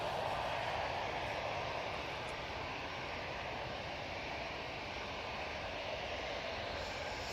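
An Aer Lingus airliner touches down on runway 23 right at Manchester Airport, its engines giving a steady, broad roar that holds at an even level from start to finish with no voices over it.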